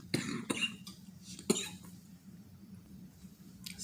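Two quick harsh coughs close to the microphone, followed a moment later by a third single cough, then quiet room tone.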